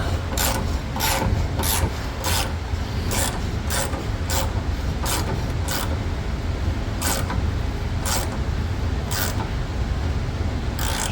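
A thread tap cutting fresh threads into a metal plate during a 1969 VW Bus restoration, giving a steady grinding rasp with regular squeaky creaks, close and continuous with no talk.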